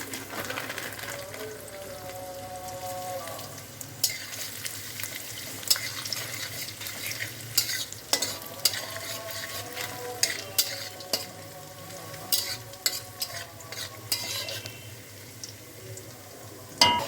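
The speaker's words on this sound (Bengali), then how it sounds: "এবার কিশমিশ ভেজে নেব।" Raisins fry in hot ghee in a pan, a continuous close sizzle with intermittent spoon scrapes and clatter, busier in the second half, no speech.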